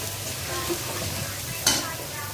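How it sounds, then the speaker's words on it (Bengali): Onion and garlic frying in a pan with soft continuous sizzling and occasional stirring scrapes, one sharper clink near the end, fairly quiet and steady. "আর আমি একটু পেঁয়াজটা একটু ভালো করে ভাজা দিয়ে নিচ্ছিলাম"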